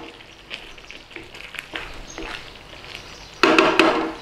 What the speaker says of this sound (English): Just take the lid off and give it a little stir.